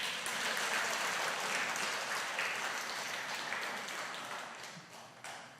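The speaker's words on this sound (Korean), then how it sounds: "좋으면 박수하세요." Applause from a church congregation during an anniversary thanksgiving service, a steady wash of many hands clapping at moderate distance that slowly thins and fades.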